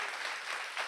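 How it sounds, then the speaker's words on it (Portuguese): Church congregation applauding during a worship service, a steady dense wash of clapping that fills the whole moment without pause, fairly even in level with no voices rising above it. "Aplaude mais forte aí"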